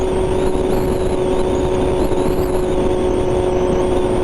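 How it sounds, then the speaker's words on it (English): A 2021 BMW M1000RR sport motorcycle, fitted with an ECU flash, accelerates hard in second gear, producing a loud, steady, close engine drone that holds a high pitch with no talk over it. "Now I'm going to do all the 60 through 130 passes in second gear."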